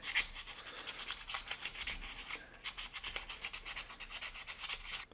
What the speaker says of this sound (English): Give her the old Scotch-Brite treatment